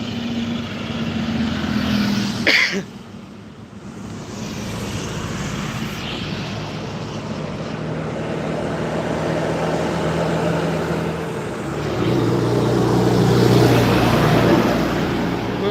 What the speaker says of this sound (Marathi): शेता गाड्या भरपूर चाललेल्या आहेत आवाज येत असेल तुम्हाला